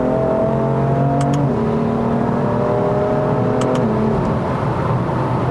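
BMW M4 Competition (F82) accelerating hard in Malaysia with quick paddle shifts: a steady loud engine drone rising in pitch, with two brief dips as it snaps up through the gears.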